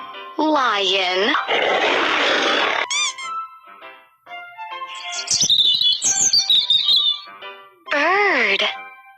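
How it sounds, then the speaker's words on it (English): Loud, close bird calls in a clear, tonal sequence: bright warbling phrases, squeaky whistles and a burst of high rapid chirps, with no other background sound. "B-I-R-D. Bird."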